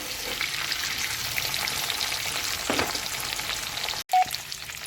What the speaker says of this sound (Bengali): মাছের মাথাগুলোকে ভাজছি